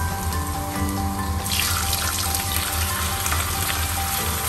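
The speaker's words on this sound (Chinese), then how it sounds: "现在开始炒虾仁，搁两片姜，把姜炸一下" Peeled shrimp and two slices of ginger stir-frying in hot oil in a wok, a dense, steady sizzle close up that grows brighter partway through, with no talking.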